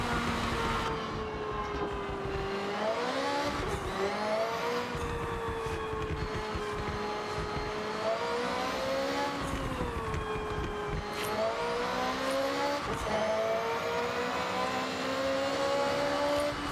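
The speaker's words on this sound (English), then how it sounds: "You want to rev the hell out of this car." Car engine revving in the Forza Horizon 6 racing game, a continuous loud engine note rising and falling through gear changes, with turbo whine and repeated shifts, no talk.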